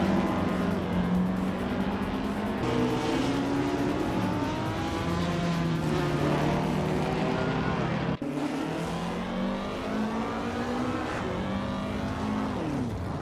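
A 1960 Scarab Indy race car in a racing game drones steadily at high revs, its engine pitch rising and falling through gear changes, with a brief dip partway through and other cars audible alongside.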